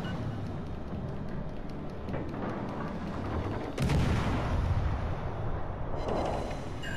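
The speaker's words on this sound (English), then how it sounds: "All right, we took out one of their cannons." In the naval video game World of Warships: Legends, cannon fire rumbles through a dense, loud battle soundscape, with a heavy boom hitting midway through the action.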